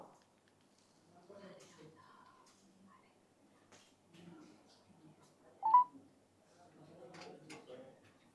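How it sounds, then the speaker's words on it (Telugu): A single short telephone keypad tone sounds during a phone call, faint and brief among quiet speech and soft handling noises. "వీణా గారికి కాల్ చేసి ప్రయత్నం చేద్దాం."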